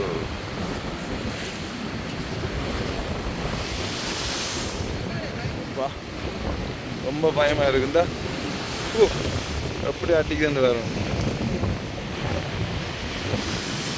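Rough sea waves and strong wind on the coast at Point Pedro, a loud continuous roar of surf and gusts buffeting the microphone, with people talking close by over the noise.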